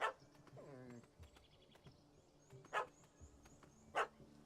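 A dog in the Witcher 3 video game gives a few sharp, separate barks spaced over several seconds, fairly clear against quiet ambient game sound.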